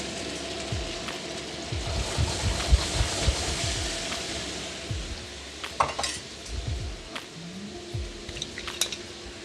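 Meatballs and braising sauce going into a wok for Lion's Head braise: repeated clatter of utensil against the metal wok with wet squishing and stirring, a faint sizzle underneath, steady and close with no talking.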